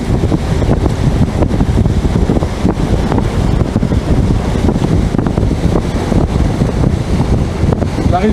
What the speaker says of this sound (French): Deux moteurs 1000 tours, on bouge plus.